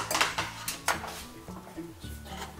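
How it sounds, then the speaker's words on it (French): A utensil mixing banana into a dog-treat batter in a bowl, with close clinks and scrapes against the bowl in an irregular rhythm and a faint low hum underneath. "j'incorpore ma banane avec ma préparation, ma première préparation"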